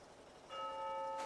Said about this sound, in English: Oh, there's the bell. And now it's exactly the o'clock.